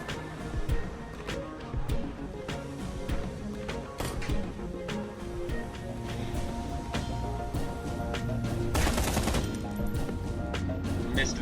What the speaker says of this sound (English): Missed an entire mag of full auto